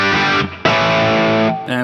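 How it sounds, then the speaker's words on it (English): A Marshall Super Lead Plexi amplifier driven by an electric guitar, sounding as a short burst of crunchy distorted chords: one ringing chord, a brief dip, then a louder sustained chord and a final fresh strike, with no voices. "a Plexi, the good old Marshall Super Lead Plexi,"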